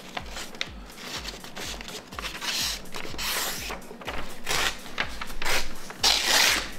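A tool saws and rasps off the plastic teeth of a Nokia accessory, making a close, steady rhythmic scraping with regular strokes that grows louder and harsher toward the end.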